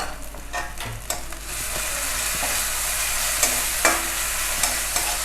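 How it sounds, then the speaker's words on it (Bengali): Wild mushrooms frying in a pan with mustard paste, a steady close sizzle with occasional sharp scrapes and clicks of a spatula stirring. "ছাতু বা মাশরুম এইভাবে ভাজলে খুব টেস্টি হয় খেতে"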